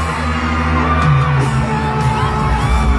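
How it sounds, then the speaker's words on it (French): A stadium crowd at the Stade de France screams and whoops as Youssou N'Dour arrives, a dense continuous roar of cheering with scattered yells, loud and enveloping. "je vous laisse écouter les cris du public quand Youssou N'Dour est arrivé"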